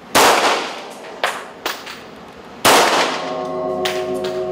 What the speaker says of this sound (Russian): Грациозно поражают мишени Варвара и Анна.